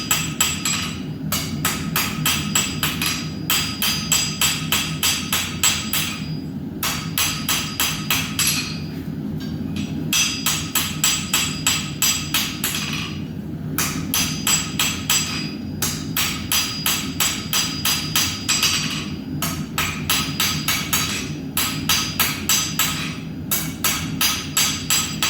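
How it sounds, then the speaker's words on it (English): A blacksmith forges a square or round taper on hot steel over an anvil with a smaller hammer, a steady run of quick ringing strikes grouped in bursts, loud and close, with short pauses between groups and no talk. "I'm going to switch over to a smaller hammer, and I'm going to clean it up. I'm going to sharpen up the point."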